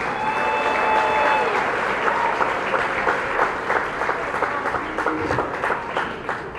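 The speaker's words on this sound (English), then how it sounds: "let's give our student athletes that are moving on to the next level a big round of applause and congratulations" An audience at a high school signing day ceremony for student athletes bursts into sustained applause, dense clapping that holds steady and then gradually thins toward the end.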